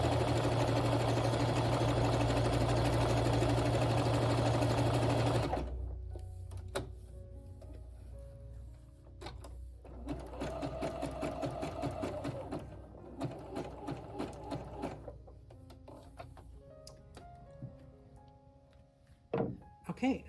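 A sewing machine stitches coiled rope into a bowl, running steadily at first, then stopping and restarting in short whirring bursts amid clunks of adjustment, with a voice talking over it.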